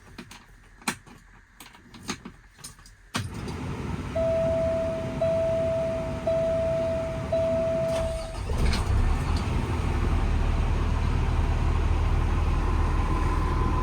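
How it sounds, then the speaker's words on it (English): A few sharp clicks and knocks, then the 300hp engine of a 2020 Kenworth T270 service truck with Allison automatic starts and runs steadily, rumbling louder as the truck begins driving, with a faint steady tone. "I'm going to get in the truck, take it for a drive"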